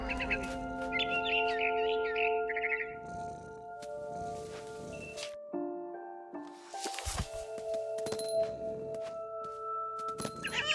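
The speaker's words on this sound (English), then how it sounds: "Then I heard chirping outside my window. It was a barn swallow going back to her nest." Barn swallow chirps in the game What Remains of Edith Finch, bright bursts of tweeting near the start, then scattered sharp calls over a steady tonal game hum with thumps and shuffles.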